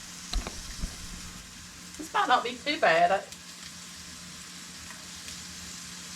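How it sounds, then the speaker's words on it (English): Hamburger steak and onions sizzle steadily in a hot vintage Chefs Ware model 600 electric skillet, a constant hiss running throughout, while a person speaks briefly in the middle. "Ooh, it's sizzling."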